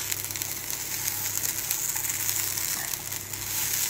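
Dry spices, including dried fenugreek, roasting in a pan over low gas for a Goan beef curry, giving a steady soft sizzle and faint crackle throughout with no talk.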